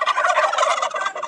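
A group of turkeys in Dranda, Gulripsh district, Abkhazia, gobbles loudly and close by in a dense, continuous burst of rapid warbling calls that overlap one another.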